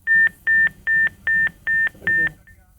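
Six evenly spaced, identical electronic tones sound on a telephone line as a call disconnects. Each beep is loud, clear and of the same length, followed by a faint short blip.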